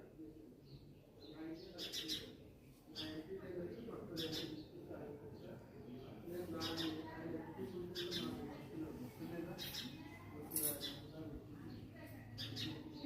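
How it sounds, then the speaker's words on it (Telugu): Sparrows chirp faintly among garden flowers and plants, giving short scattered tweets over a quiet outdoor background while a person talks nearby. "ఇగోండి బర్డ్స్ అరుస్తున్నాయి ఇక్కడ"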